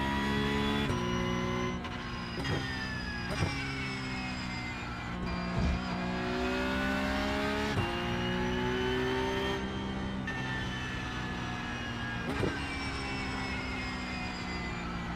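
Race cars in a GT3 racing video game at Fuji, engines droning steadily with rising and falling revs and repeated gear-shift dips, loud and close with no talk.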